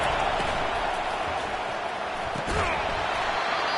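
College football video game stadium crowd during a Florida home game against California, a dense continuous roar with a brief surge near the end, under a commentator talking.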